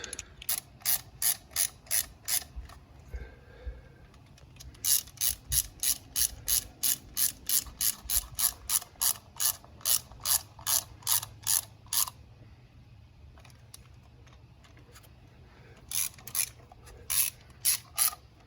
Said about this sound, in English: Now we grab our 2 bolts, start those. We'll tighten those up. Again, that's a T30 Torx.